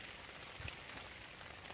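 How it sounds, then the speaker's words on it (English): Rain falls on a camping tent in Scotland as a very faint, steady patter of fine drops with a few slightly louder taps and no speech. "you could probably hear the rain outside the tent."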